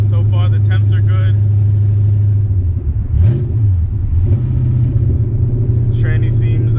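A VH45 V8 swapped into a Nissan 300ZX runs with open headers and no exhaust, a loud deep rumbling drone with a short rev partway through, and someone talks over it at times.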